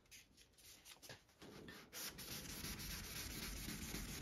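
Wet sanding of single-stage automotive paint on a car panel, a soft steady rubbing scrape that starts lighter and intermittent, then becomes continuous and louder, heard close up with no talk.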